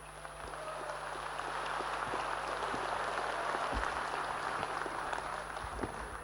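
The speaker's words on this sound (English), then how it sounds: "Give them a round of applause." Sustained audience applause for eight presidential candidates on a debate stage, a dense, even wash of clapping from a large crowd in a hall, with a steady background hum throughout.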